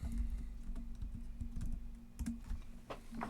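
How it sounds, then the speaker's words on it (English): Keys tapped on a computer keyboard while a search for softball and baseball gear is entered on Amazon, a quick run of close, light clicks in uneven bursts over a low steady hum. "as I'm in the search bar, I will go in and I will type in, softball"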